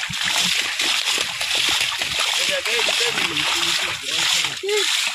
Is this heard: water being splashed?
yes